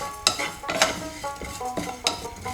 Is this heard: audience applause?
no